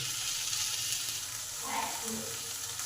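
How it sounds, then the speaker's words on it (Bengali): Banana flower paste with spices fries in a pan, giving a steady, close sizzle with faint stirring throughout. "এবার এটা ভালো করে কষে নেব"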